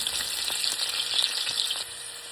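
Onion frying in a pan for adobong sitaw, a steady close sizzle with light crackles throughout, easing slightly toward the end.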